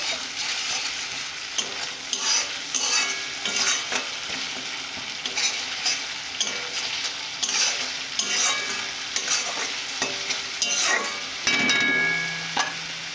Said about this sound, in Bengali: ভালো করে কষে নেবো এইভাবে